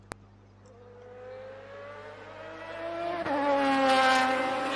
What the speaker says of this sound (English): Okay, that's a Lamborghini.